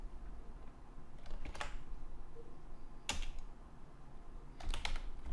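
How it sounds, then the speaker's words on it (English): Someone types on a computer keyboard, producing a few quiet, scattered clusters of key clicks separated by pauses, close and faint against a soft background hum. "I hit enter and a backspace"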